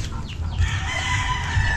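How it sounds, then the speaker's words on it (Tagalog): Chickens clucking and a rooster calling in a Filipino backyard, several birds close by with busy overlapping clucks throughout. "wag mong katayin yung manok dyan"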